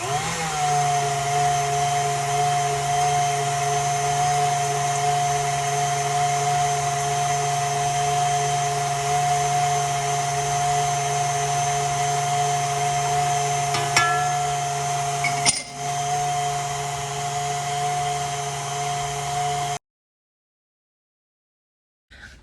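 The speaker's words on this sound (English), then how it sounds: "So now it wants us to keep beating, but doing a tablespoon at a time of the sugar" An electric mixer beats egg whites with sugar for a chocolate soufflé, a steady loud whine that holds at one pitch for nearly twenty seconds before cutting off abruptly.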